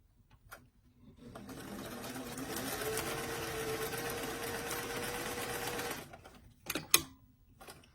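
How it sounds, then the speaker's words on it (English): Sewing machine stitching the side seam of a doll-size beach bag, front joined to back; a steady continuous whirring run of about five seconds, close and loud, followed by a few brief clicks and handling knocks. "we're just going to go ahead and sew the front of the bag to the back of the bag at the side seam"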